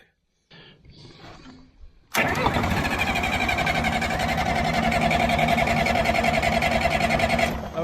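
A 67-year-old International 350 diesel tractor that sat unused for 25 years cranks with a short, uneven churn, then catches abruptly and settles into a loud, steady, rapid diesel clatter.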